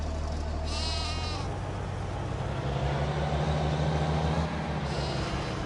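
Sheep in the farming video game Farming Simulator 25 bleat twice, short wavering calls over a steady low engine-like hum from farm machinery.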